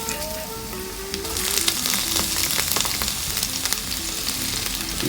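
Red onions hit hot olive oil in a pan and set off a bright, close, steady sizzle, with crackles and small pops that build after the first second and carry on alone.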